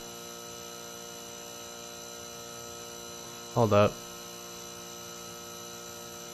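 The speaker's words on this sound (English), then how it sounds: "that's the sound of the lights." Steady electrical buzzing of lights in a video game ambience drones on throughout, a constant hum with a brief spoken interjection over it midway.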